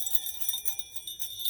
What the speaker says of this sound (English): these bigger bells actually are better to get anyways, because they got a really good deep sound to them